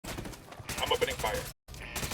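Bursts of gunfire in a GTA game crackle rapidly at close range, broken by a brief silent gap before the shooting resumes, with a voice talking over it.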